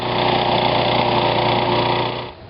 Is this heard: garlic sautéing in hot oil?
no